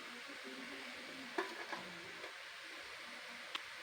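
Chopped garlic dropped into hot oil in a home kitchen while cooking a blue taro stem recipe gives a faint, steady sizzle with a few soft clicks and taps.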